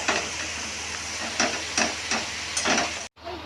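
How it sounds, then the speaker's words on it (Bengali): Onion, ginger and garlic fry together in a pan, a steady sizzle broken by several scraping stirs of a utensil, each a short bright swish, before the sound cuts out abruptly near the end. "পেঁয়াজ আদা রসুন মিক্স করছে।"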